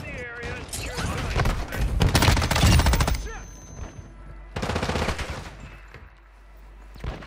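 Gunfire in the video game Modern Warfare 3 comes as dense, loud bursts of rapid automatic fire with a shorter burst later on, while a player talks over the shooting.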